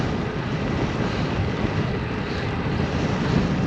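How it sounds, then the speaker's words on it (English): Strong headwind buffets a cyclist on an open road beside a grass farm, a loud, steady broadband roar of wind across the microphone that holds throughout with no let-up. "Headwind."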